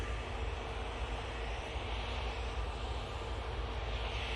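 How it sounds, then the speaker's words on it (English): Ryanair airliner arriving from Rome, a steady broadband jet engine roar at moderate distance, constant and unbroken, with no voices. "That should be our next arrival. Ryanair from Rome."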